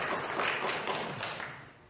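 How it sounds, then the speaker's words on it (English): A church congregation applauds in a steady, dense wash of clapping that swells early and slowly tapers off over two seconds. "Our new, you can clap,"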